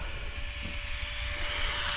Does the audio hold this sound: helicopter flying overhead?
yes